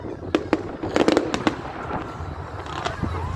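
Fireworks at a public display burst in a quick flurry of sharp cracks and bangs at a moderate distance, single and double pops over a rumbling crowd background.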